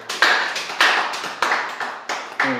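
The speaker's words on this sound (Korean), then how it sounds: "박수!" Five or six separate bursts of group clapping at a church youth worship service, each a short sharp round that fades quickly, spaced about half a second apart, with a brief voice near the end.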